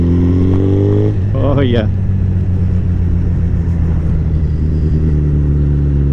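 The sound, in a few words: Hayabusa motorcycle with Leo Vince slip-on exhaust revving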